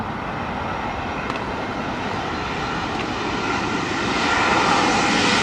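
Boeing 747 engines at London Heathrow Airport during a storm give a broad, steady roar that grows slightly louder toward the end. It sounds distant to mid-range, with faint wind noise and no talking.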